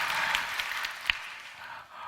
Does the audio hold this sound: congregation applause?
yes